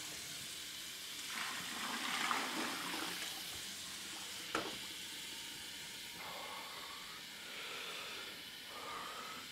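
An electric mixer runs steadily in a bucket of hibiscus tea, a continuous watery whir and hiss with churning swells and one brief knock partway through.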